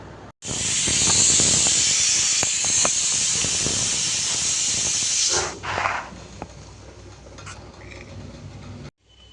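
A pressure cooker cooking moong dal lets off a loud, steady jet of steam for about five seconds, then cuts out to a sputtering hiss and faint rattling before stopping.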